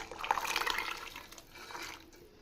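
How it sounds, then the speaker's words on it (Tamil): Boiled chickpeas are tipped into a curry together with their cooking water, giving a close, splashy pour with small gurgles that thins out and then briefly picks up again toward the end. "அப்படியே தண்ணியோடு ஃபுல்லாக நம்ம ஆட் பண்ணிக்கலாம்."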